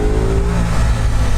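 A 720-horsepower Audi RS6 engine revs hard and pulls under acceleration, a loud, close, continuous low roar with steady harmonic drone and no voices over it.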